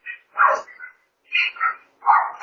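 A dog on a doorbell camera gives three clustered bursts of barking, each a couple of quick yips, moderately close and fairly loud, with short silent gaps between.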